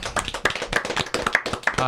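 A small audience in a French rap discussion show applauds with quick, uneven, sharp claps at close range, with voices faintly underneath.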